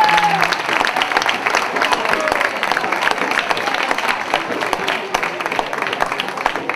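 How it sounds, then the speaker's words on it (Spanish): A crowd at a football club's season-end party breaks into loud, dense applause that holds steady throughout, with scattered voices and cheers mixed into the clapping. "Un aplaudiment per tots!"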